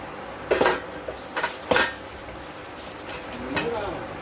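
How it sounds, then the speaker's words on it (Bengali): Cooked chicken is tipped from a pressure cooker into a pot, giving a few sharp metal clanks and scrapes spaced across a few seconds, close by. "চিকেনটা হয়ে গেছে, তো চিকেনটা কুকার থেকে ঢেলে নেব"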